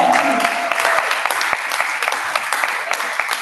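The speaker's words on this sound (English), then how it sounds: "Give a round of applause again." A round of applause at a conference session fills the room, dense and continuous with a brief voice and tone at the start, claps near and steady before easing slightly.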